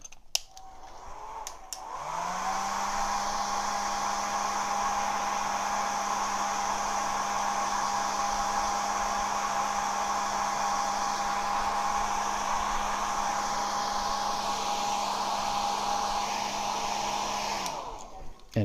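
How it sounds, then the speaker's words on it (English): A hair dryer switches on and runs steadily for about fifteen seconds to dry a watercolor fruit-bowl painting, giving a loud, even whir with a constant motor hum, then clicks off, with no talking. "So I'm going to plug in my handy dandy hair dryer."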